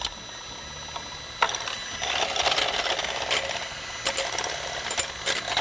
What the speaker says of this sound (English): so I like to use a hand mixer for this